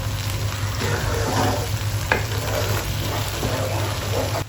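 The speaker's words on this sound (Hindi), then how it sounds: "अब इसकी 3-4 मिनट भुनाई करेंगे अच्छी तरह, जब तक मसाला ऑयल ना ऊपर छोड़ दे।" Masala sizzles steadily while being stir-fried in oil for an egg and spinach dish, with a continuous frying hiss and occasional spatula scrapes and taps against the pan, close and fairly loud throughout.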